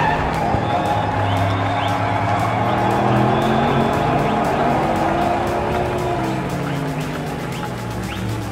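Diecast toy race cars, including a Lamborghini Gallardo, roll along a racing track in a tournament semi-final, giving a steady continuous whirring rumble with faint squeals, heard alone with no talk at a fairly loud level.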